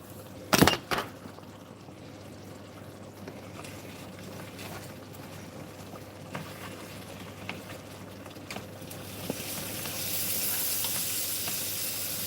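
Food frying in a pan gives a soft, steady sizzle with faint scraping and stirring, plus a couple of sharp knocks near the start and a rising hiss toward the end.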